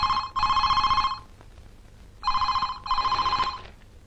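A telephone rings indoors at home, two loud bursts of electronic trilling, each split into a pair of rings with short gaps, no voices over it.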